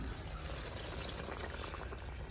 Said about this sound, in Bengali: এবার দিলাম তেঁতুলের জল